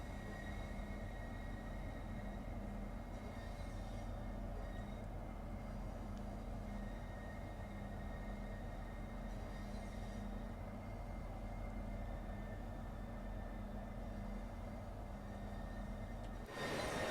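Southeastern high-speed train in Train Sim World 2 rolling slowly along a platform to a halt, with a steady low, faint rumble and hum and a few soft rises of noise, no talking.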